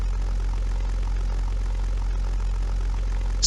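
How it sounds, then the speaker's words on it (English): A P-51B Mustang's engine in the flight game European Air War keeps droning after switch-off, a steady, loud, low rumble that holds evenly throughout with no voices. "The engine sound is there, but the propeller stops."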